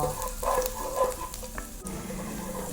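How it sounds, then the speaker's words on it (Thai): Garlic stir-fries in a hot pan, with a steady close sizzle broken by a few scraping stirs and clinks of the utensil against the pan. "แล้วเราก็จะใส่ กระเทียมค่ะ ผัดเขาไม่ต้องให้มันไหม้นะคะ ให้มันแค่เหลืองๆพอ"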